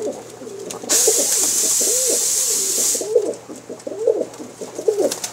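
Pigeons of a fancy breed from Pakistan coo in a steady run of soft, low throaty calls, close by, with a bright high hiss above them for the first couple of seconds.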